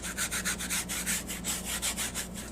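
Brown paint is rubbed onto a surface by hand, giving a steady, close scrubbing sound with quick rhythmic strokes, about five per second, continuing throughout with no talk.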